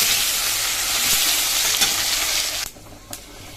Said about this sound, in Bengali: এবার হচ্ছে আলুটা ভেজে নেব।